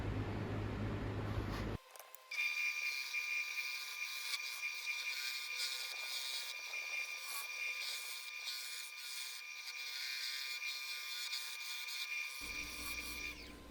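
A gouge takes light passes on a spalted figured elm bowl spinning on a lathe, a steady close scraping hiss of wood cutting that runs for about ten seconds without pause.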